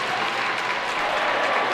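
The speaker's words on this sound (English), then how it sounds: "Frank Fezza gets up to a round of applause, a sign of sportsmanship from both the players and the fans here" A crowd at a varsity high school ice hockey game between Smithtown Hauppauge and Northport Huntington applauds steadily as an injured player gets back up, a dense, even clapping from many hands throughout.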